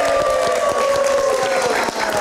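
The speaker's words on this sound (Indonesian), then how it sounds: "Kalau memberikan tepuk tangan untuk Adit Insomnia." Steady applause from a live comedy show audience, many hands clapping together, loud and sustained with a faint tone ringing underneath.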